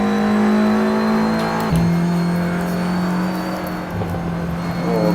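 A race car accelerates downhill on its final lap, its engine holding a loud, steady drone that dips briefly with a gear change, then climbs back to a sustained high note close to the car.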